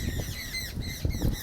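Birds squawk in repeated harsh bursts, fairly faint and with no voices, across a short stretch.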